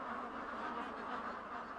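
Healthy, active ducks fill a barn on Long Island's last duck farm, a dense chorus of overlapping quacks at a steady, faint level with no distinct single calls.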